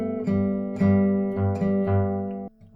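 Plucked guitar notes, a slow alternating pattern on the third string over a sustained bass. About five distinct picked notes ring out clearly and alone, close and clean.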